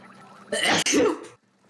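A single close, loud human sneeze in a quiet room, a sharp double-pushed burst lasting under a second, heard on its own.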